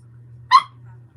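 A single short dog bark, close and loud, over a steady low electrical hum in a quiet indoor room.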